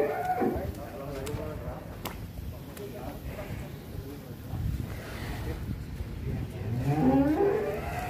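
A large cross-breed bull owned by a regional official moos at a cattle farm in Subang, Indonesia, with a couple of deep, drawn-out calls at moderate distance, mixed with ambient farm noise and people talking.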